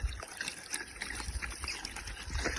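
Water runs steadily from a tap while salad is washed, a close splashing trickle with small irregular spatters throughout, loud and continuous with no talking.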